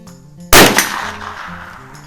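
A Mossberg 142-A .22 LR bolt-action rifle fires a single sharp, loud shot that rings out and decays over about a second and a half.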